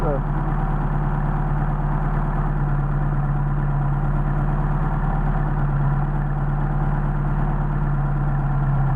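A Mercedes 190SL fitted with Solex 44PHH carburetors idles with a steady, close, loud engine drone and an even low hum that stays constant throughout.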